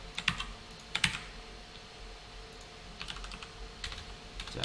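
JavaScript code is typed on a computer keyboard in quick clustered keystrokes with a few sharper clacks and short pauses, close and clear over a faint room hum.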